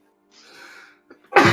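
A single close, loud human sneeze: a breathy inhaled build-up, a short catch, then an explosive burst at the end.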